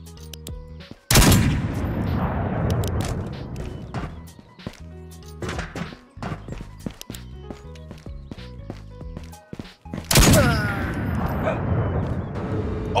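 Sniper gunshots in the Ghosts of Tabor video game ring out as two sharp, loud cracks several seconds apart, each with a trailing echo, separated by quieter clicking and shuffling sounds.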